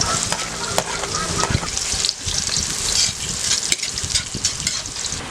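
Garlic and onion sautéing in hot oil as the base for a molo soup broth, a close, steady sizzle with stirring scrapes and clinks throughout.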